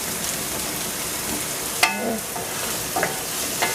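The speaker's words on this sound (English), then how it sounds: "And so you just saute your onions until it's a little bit wilted." Onions sautéing in a pan for a vegetable dumpling or soup filling, a steady close sizzle with a few sharp utensil clinks and stirring scrapes.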